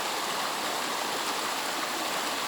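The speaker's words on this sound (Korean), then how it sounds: "그 물소리가 생명들을 깨우며 칠갑산의 봄은 시작된다." A clear mountain stream on Chilgapsan, South Chungcheong, pours down its valley in spring, giving a continuous, loud, even rush of flowing water close by with no talking.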